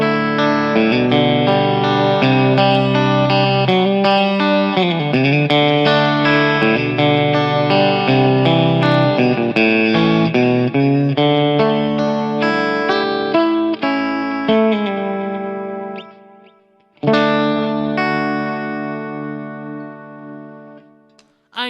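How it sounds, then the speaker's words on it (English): Electric guitar playing clean melodic lines through a creamy modulated digital delay pedal, notes trailing into repeating echoes with chorus-like shimmer, loud and steady with a brief pause before a final chord rings out. "That is a nice creamy modulated digital delay"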